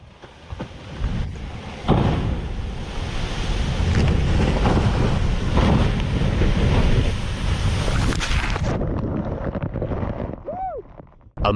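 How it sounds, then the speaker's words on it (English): A massive chunk of glacier ice breaks away and crashes into the ocean, a loud, sustained broadband roar that swells after a couple of seconds and then fades, mixed with heavy wind buffeting. "A massive chunk of ice breaks off from the glacier, crashing into the ocean with a thunderous roar"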